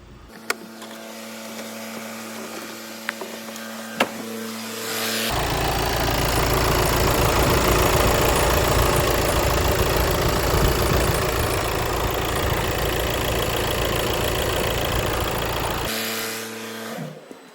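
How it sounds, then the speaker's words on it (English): A 2017 VW Tiguan 2.0 TDI diesel engine idles steadily and smoothly up close, its low, even rumble running unbroken for most of the stretch, with quieter moments at the start and end. "Just see it's running, idling fairly smooth at the minute."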